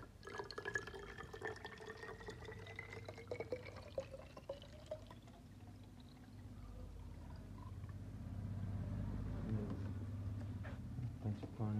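Water is poured into a new salon barber's spray bottle, the gurgling fill rising steadily in pitch as the bottle fills, then giving way to a lower, duller rumble, all fairly quiet against background noise.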